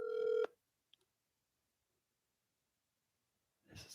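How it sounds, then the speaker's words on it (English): A telephone sounds briefly at the start, a loud tonal ring or dial tone that cuts off after half a second, followed by near silence and then faint background noise at the end. "Is it ringing? Put it on speaker."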